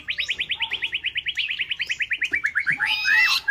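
White-rumped shama (chòe lửa) songbird singing a rapid series of bright repeated chirps, near and loud, ending in a higher whistled phrase, with no voices present.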